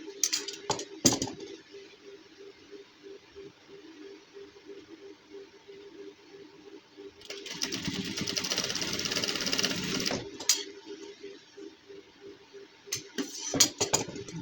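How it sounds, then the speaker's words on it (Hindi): A sewing machine stitches a seam on a gents suit in one clear, close run of about three seconds. Quieter clinks and handling sounds come before and after it. "कप की दूसरी साइड पे अभी आपने वैसे ही सिलाई लगानी है, बिल्कुल साथ साथ"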